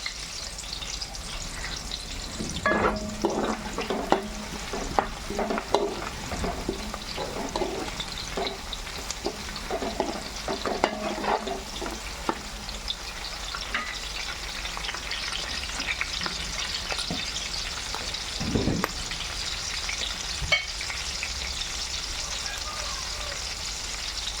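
Curry leaves sizzling and crackling in hot oil for pappu pongal, with a steady frying hiss, a few sharper pops and stirring scrapes near the start, continuing alone throughout.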